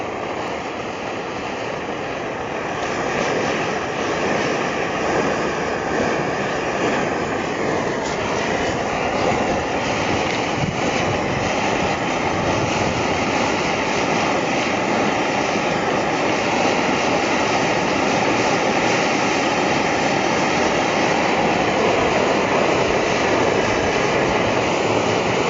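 A camping gas stove burner run at high pressure gives off a continuous, loud, broadband roar that holds steady for the whole stretch with no pause and no talk.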